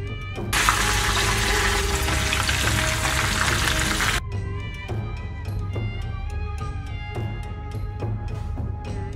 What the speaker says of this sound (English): Let's do the deep fry. On the medium flame, it will take 8 to 10 minutes.